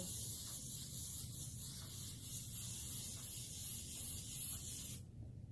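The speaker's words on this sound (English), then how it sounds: "I just want to spray a light covering the same place where my back onto the backing" A steady, close hiss of aerosol spray adhesive applied to quilt backing fabric, continuous for about five seconds, then cutting off abruptly.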